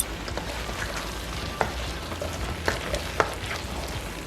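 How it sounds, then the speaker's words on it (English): Shallot and celery fry in a pan with a steady, close sizzle, broken by a few sharp pops and crackles as they are stirred; no voices. "now I'm going to add in my shallot and my celery"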